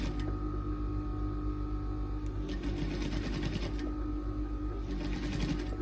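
A sewing machine stitches patchwork fabric in a steady, fast mechanical whir with rhythmic needle clatter, running continuously at close range with no voices.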